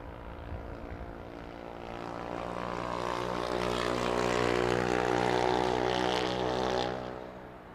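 Propeller aircraft arriving at London Heathrow Airport, a droning engine hum with strong tonal harmonics that swells louder as it passes fairly close, then begins to fade, heard outdoors without talking.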